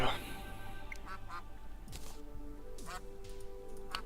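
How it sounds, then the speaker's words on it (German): Repeated cartoonish duck quacks from the video game Terraria pop up in quick, irregular bursts over quiet game background sound, with people talking now and then. "Die Enten nerven gerade minimal."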